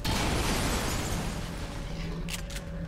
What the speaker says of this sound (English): Why don't we shoot that and maybe force an explosion?